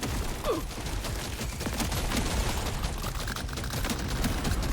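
Dense, continuous barrage of shotgun blasts and other weapon fire from the video game Deep Rock Galactic Survivor, loud and unbroken over a busy rumble of in-game action, with no talking.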